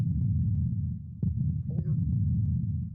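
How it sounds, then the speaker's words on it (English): A heartbeat plays within an immersive VR experience: low, muffled, throbbing pulses that repeat steadily over a soft droning hum. "We hear the heartbeat"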